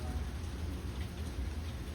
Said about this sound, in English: Letting that rain clean these plastics off.